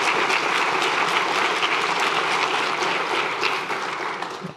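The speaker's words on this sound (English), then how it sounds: "Give them a round of applause." A large audience applauds public health leaders, a dense, sustained wash of clapping at steady loudness that tapers slightly toward the end, with no voices over it.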